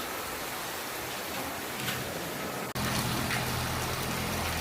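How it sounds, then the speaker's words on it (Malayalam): Heavy rain, a dense, steady roar of falling water that fills the scene without letup, with a brief cut partway through and no voices. "നല്ല മഴയാണ്."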